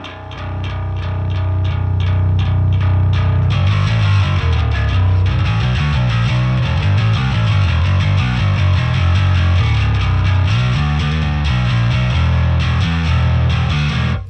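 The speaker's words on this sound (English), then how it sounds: "this is the ultimate combination of traditional, dirty, a lot of distortion, but with a clean and modern low end" Heavily distorted bass guitar through a Marshall and Softube plugin in Cubase plays a steady, driving riff, with gritty upper overtones over a solid, clean low end, loud and continuous.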